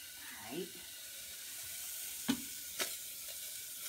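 Onion dry sautéing in a pan without oil, a faint steady sizzle with a few brief scraping and stirring sounds, fairly quiet throughout.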